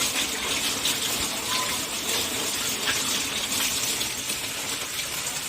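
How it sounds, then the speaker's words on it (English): Water runs steadily from a tap, a constant hissing gush splashing into a catfish hatching pond basin, with no voices. "turn on your water"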